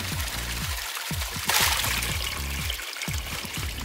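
Water rushes and gurgles through a TIP SFP 180 sand filter unit during backwash, a steady flow broken by rhythmic low pulsing surges and one brief louder splashing burst midway.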